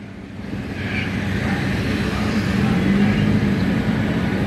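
A strong earthquake produces a low, continuous rumble that swells slightly louder as the shaking goes on, with no voices over it.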